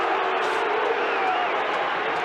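Crowd at a 1986 rugby league match between Manly and Parramatta at a stadium, a steady loud roar of voices jeering the referee after a penalty, continuous throughout.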